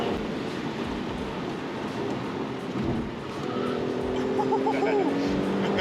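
A tuned Mercedes C43 AMG with aftermarket Brembo pads, cornering on a curvy road, lets out a brief rising tire squeal over steady engine and road noise from inside the cabin, with voices talking.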